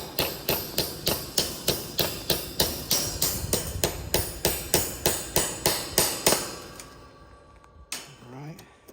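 Nails hammered into a board, a fast run of sharp, loud, evenly spaced blows, about twenty strikes in close succession, then a pause and one last hit.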